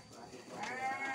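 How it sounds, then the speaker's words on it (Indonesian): A newly acquired ewe, thought to be in early pregnancy, bleats on a small farm at afternoon feeding time. A wavering bleat rises over a steady background hiss and stays moderately close. "Ini domba"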